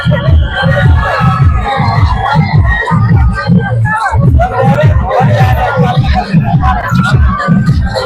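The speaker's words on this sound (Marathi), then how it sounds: "पाहिली का गर्दी एकदम भरपूर गर्दी झाली आहे" A large, dense crowd at a village fair makes loud, continuous babble with shouts and whoops, overlaid with rhythmic pulsing beats from a band playing close by.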